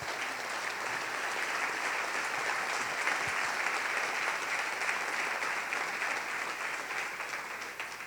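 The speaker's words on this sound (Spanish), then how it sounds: "Si lo entiende, denle un aplauso al Rey, por favor." A church congregation applauds steadily for several seconds, a dense, even wash of clapping from many hands that tapers slightly at the end.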